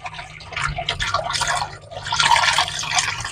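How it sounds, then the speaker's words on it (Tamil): Mackerel being rinsed by hand in a basin of water, with steady splashing, dripping and sloshing close by, continuous for a few seconds with no talk. "இப்போ இன்னொரு 2 டைம் வாஷ் பண்ணிடலாம்"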